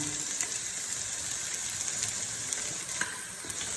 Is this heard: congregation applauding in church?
no